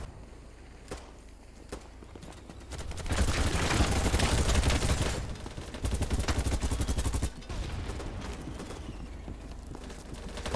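M249 machine gun fired in the shooter game Battlebit, loud sustained bursts of rapid automatic fire from close by, with shorter pauses between strings and some lighter steps and clatter beforehand.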